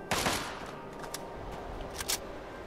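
Gunfire in the video game Fallout 3 aimed at the player, a sharp opening crack followed by a few scattered, fainter shots over a steady game ambience.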